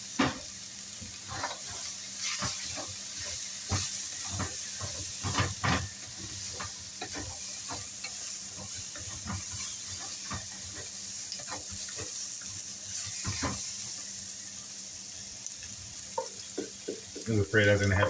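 Vegetables sizzle and fry in a wok for Chinese chicken and broccoli, with repeated clattering stirs and scrapes at an irregular rhythm, close and moderately loud.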